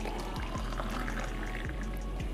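Warm water is poured into a glass for a morning drink, a continuous soft splashing rush with a few low gurgles, steady and close with no voices.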